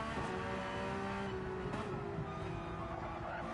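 Porsche race cars in Gran Turismo 7 at Monza, a steady engine drone with rising and falling harmonic whine as two cars battle closely, loud and continuous throughout.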